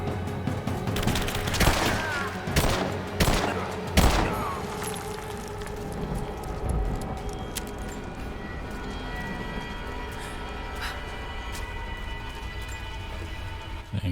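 Rapid bursts of gunfire from a firefight in the video game Rise of the Tomb Raider, loud cracks clustered in the first few seconds, then a steadier din of distant shots and battle noise.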